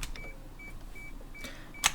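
Train cab beeps inside the Metrostroi 81-720 metro simulator game, short repeated tones at an even pace, moderately loud over faint background noise, ending with a brief sharper click.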